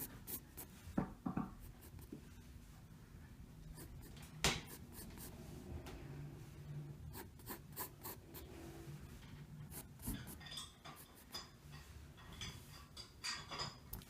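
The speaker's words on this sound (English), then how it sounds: "I think I'm ready to use the darker pencil now" Pencil drawing on paper with a darker pencil, steady scratchy strokes of graphite close by, with occasional louder taps and scrapes, no talking.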